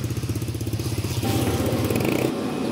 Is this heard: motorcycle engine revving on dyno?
yes